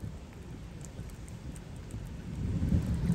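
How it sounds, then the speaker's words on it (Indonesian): Thunder rumbles low and continuously through a storm on the highway during a road trip in a Hyundai IONIQ 5 electric car, with rain on the vehicle, the rumble swelling louder toward the end. "Ini petirnya luar biasa dari tadi. Banyak banget petirnya."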